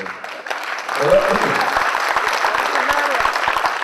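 An audience claps through a business talk on customer loyalty, the applause swelling after a quiet start and staying steady and dense, with a few sharper claps standing out.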